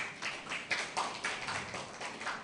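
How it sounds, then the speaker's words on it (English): Small audience at an agribusiness hub presentation giving a round of applause for a speaker, sparse uneven clapping in a few bursts, fairly close and faint, with no talk over it. "A round of applause for Ms."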